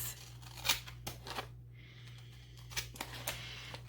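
Scissors snip paper while trimming pieces for a Happy Planner dashboard layout, a few faint, separate crisp cuts and light rustles spread across a quiet room with a steady low hum behind.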